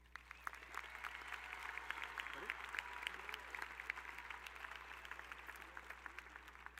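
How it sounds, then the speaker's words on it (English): Steady applause from a large audience at a high school graduation ceremony, heard at a distance with a hall-like wash of many hands clapping throughout, without speech. "Please join me in a round of applause acknowledging these accomplishments."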